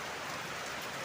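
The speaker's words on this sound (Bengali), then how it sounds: "কি সুন্দর বৃষ্টি হচ্ছে" Rain falls in a steady, even patter of drops with no other sounds, soft and continuous for about a second.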